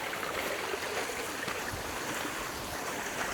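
Steady rushing water of a river stream in Tapah, Perak, Malaysia flows continuously, a soft broadband wash with no voices.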